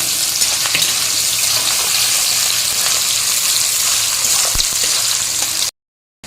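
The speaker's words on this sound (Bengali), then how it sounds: "তো এখানে এই যে দিয়ে দিচ্ছি কুচানো পেঁয়াজগুলোকে, আর পেঁয়াজগুলো একটু ভাজা ভাজা হবে" Steady, close sizzling of chopped onions frying in a hot pan, a dense crackle throughout with a few sharp pops, cutting off abruptly near the end.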